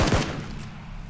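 Gunfire in the battle royale video game PlayerUnknown's Battlegrounds: a loud, close burst of shots at the very start that fades into a low rumbling tail, with no talking.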